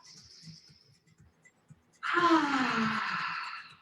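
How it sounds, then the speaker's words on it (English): A yoga practitioner does forceful breathing during a vinyasa flow: soft, faint breaths at first, then one strong, loud, close exhale of breath lasting over a second. "3 hot breaths"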